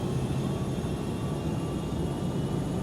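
Boeing 757 airliner on its takeoff roll, a steady, loud jet engine roar with broadband rumble holding even and continuous throughout, no voices.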